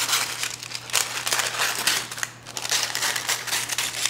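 Scissors trimming excess baking paper around sourdough dough in a hot combo cooker, giving close crinkling and crackling paper noises with repeated snips, alone with a faint steady hum beneath.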